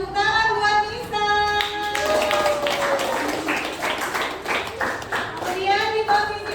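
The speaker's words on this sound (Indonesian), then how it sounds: "Silakan tepuk tangan buat Nisa." A classroom of students claps for a classmate named Nisa during a peer-teaching session. The clapping is steady and fairly close, with children's voices and an adult talking over it.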